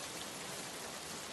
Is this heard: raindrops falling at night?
yes